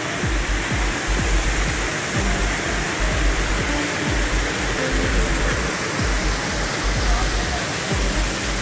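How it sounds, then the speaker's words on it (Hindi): A loud, constant roar of falling water from Umbrella Waterfall in Pakistan, dense and unbroken from start to finish. "Umbrella waterfall."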